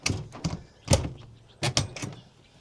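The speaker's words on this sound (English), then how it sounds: "When we open the door, see, it brings the screen door with us." A motorhome entry door opens and draws its latched screen door with it, heard as a series of close clunks, rattles and latch clicks in uneven bursts.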